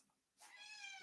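A cat gives one clear, drawn-out meow after a quiet start. It rises in the second half and carries on to the end, fairly close, with no talking over it.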